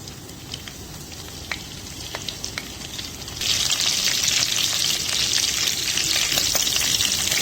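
Cumin, chillies and curry leaves hit hot oil for a puffed-rice breakfast dish; a quieter frying hiss with light taps suddenly swells into a loud, dense sizzle midway that carries on steadily to the end.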